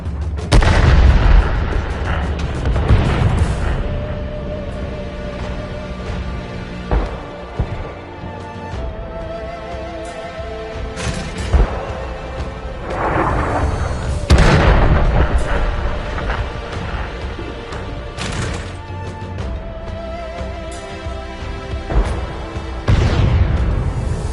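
Tank cannon shots in World of Tanks boom out repeatedly over a steady rumble of combat noise, several heavy blasts spaced a few seconds apart, loud and close.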